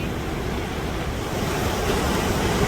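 Falling water at the American side of Niagara Falls, a continuous heavy roar of broadband rushing noise with wind buffeting the microphone, steady and close, with no voices.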